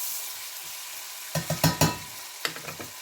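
Onions cook with garam masala in a pan, a soft sizzle broken by a few close scraping stirs of a utensil, then another short burst of stirring.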